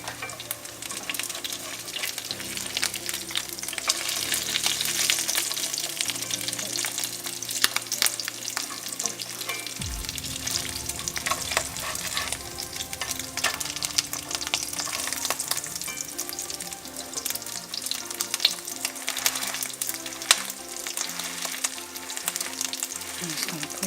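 Spinach and quinoa burger patties fry steadily in a pan, a continuous crackling sizzle running throughout with occasional faint clinks and soft background music, no speech.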